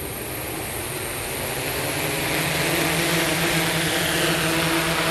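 A SuperX RC model aircraft takes off in attitude mode, its steady propeller whine and motor drone building slightly louder over several seconds, close and continuous with no talking.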